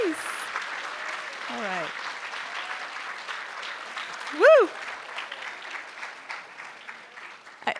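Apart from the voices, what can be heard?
audience applauding mentor teachers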